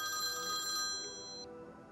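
A mobile phone ringtone plays in an indoor clinic setting, a bright repeating electronic melody that rings clearly for about a second and a half before cutting off and leaving quiet room tone.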